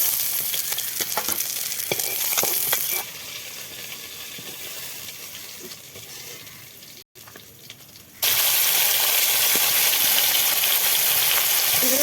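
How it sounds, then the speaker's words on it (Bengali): Fish frying crisp in oil on a village kitchen stove makes a loud, close sizzle full of crackles. It drops to a quieter hiss midway, cuts out for an instant, then returns at full strength. "শুক্তোদের ভাত দিয়ে খাবো তো তাই একটু কড়া করে ভাজলাম"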